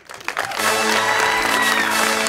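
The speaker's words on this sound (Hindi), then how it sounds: "अपने लिए तालियां बजाएं।" A studio audience at a television talk show breaks into applause, starting with a few scattered claps and swelling within half a second into steady, dense clapping that continues to the end.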